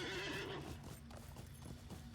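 Horse in the game LOTRO, with a loud whinny at the start followed by a run of quick clip-clop hoofbeats, heard close and alone.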